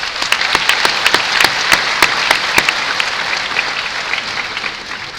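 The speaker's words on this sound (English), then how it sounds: "Give yourself a round of applause." A large graduation audience applauds at a high school ceremony, a dense sustained wash of clapping with a few sharper close claps standing out, gradually thinning toward the end.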